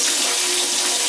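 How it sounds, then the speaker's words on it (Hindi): A steady, loud rush of pouring water, as boiled pasta is drained from its cooking water, runs unbroken for about a second with no talk over it. "अब हम इसे पानी से बाहर निकाल देंगे।"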